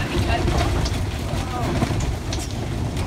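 Strong storm wind buffets a tent pitched in an exposed spot near the sea, a continuous loud roaring rush with fluttering gusts close to the microphone.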